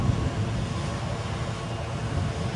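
An Embraer ERJ145 regional jet at Edinburgh airport gives a steady, broadband engine roar with a low rumble, even and sustained throughout without talk.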